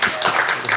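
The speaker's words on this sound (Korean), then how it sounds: "일단 박수를." Audience clapping at a Korean science and technology policy forum, a steady wash of applause filling the short moment with no voices over it.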